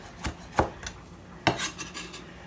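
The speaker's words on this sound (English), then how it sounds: "I'm just going to slice my cucumbers and add ginger and garlic" A knife slicing through cucumbers on a cutting board, several crisp separate cuts with short pauses between them, close and clear, no talking.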